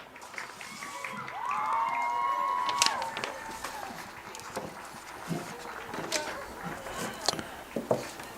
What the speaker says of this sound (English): Please give these seniors and their parents one more big round of applause.